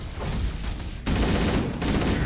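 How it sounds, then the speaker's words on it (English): Rapid assault rifle fire in Halo: Combat Evolved, two dense bursts of automatic shots split by a brief pause, loud and close. "this assault rifle is working out pretty well here"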